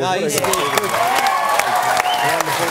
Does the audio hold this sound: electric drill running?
no